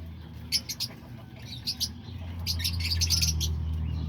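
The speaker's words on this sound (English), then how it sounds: "there's all the diamond doves" Diamond doves and other pet birds, with lovebirds, budgies and cockatiels among them, give short bursts of high chirps and tweets in clusters over a low steady hum, with the chatter growing busier toward the end.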